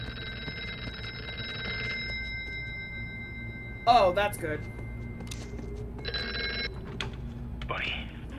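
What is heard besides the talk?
telephone ringing in the video game Here They Lie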